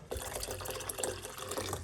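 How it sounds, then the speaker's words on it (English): Hot water poured into a cup of garlic and clove tea, a steady close trickling splash running continuously with no speech over it. "I'm going to put a little bit more hot water."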